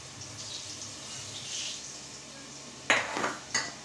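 Kitchen cooking noise: a soft wash of hiss, then sharp metallic clanks and clatters of pots and utensils near the end, close and fairly loud against a quiet background.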